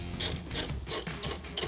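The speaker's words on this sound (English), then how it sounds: "go ahead and put the nut back on and tighten it" A ratchet wrench tightens a nut on a ground stud while CCE fog light conversion lights are being installed on a Chevy Colorado ZR2. Five quick, sharp clicking bursts come at an even pace, close and clear, with no talking.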